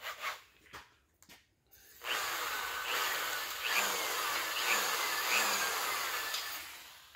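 Drill spinning a crimped wire brush inside an oil hole of a Dart SHP small-block Chevy engine block, a steady whirring grind running continuously after a few brief clicks and handling knocks at the start.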